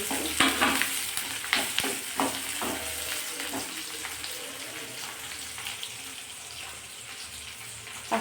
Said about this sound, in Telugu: పచ్చిమిర్చి, ఆవాలు, జీలకర్ర, ఉల్లిగడ్డ, ఉద్దిపప్పు, కరివేపాకు ఇవన్నీ వేసేసాను